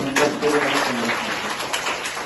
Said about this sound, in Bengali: তো আমরা সবাই ওদের দুজনের জন্য একটা হাততালি দিই।